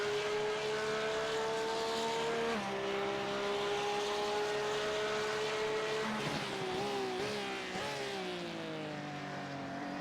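Porsche race cars battle at the Motegi circuit, engines droning steadily with pitch shifts as they change gear and pass, loud and sustained throughout.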